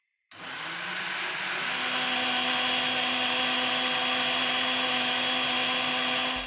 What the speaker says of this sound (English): So let's start blending this and see what happens.